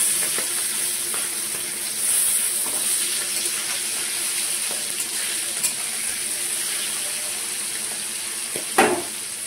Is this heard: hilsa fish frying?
yes